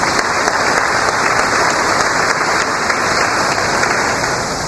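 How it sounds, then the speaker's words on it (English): A community audience at a venue applauds steadily for several seconds, a dense, loud wash of clapping with no voices on top. "Let's give them a round of applause."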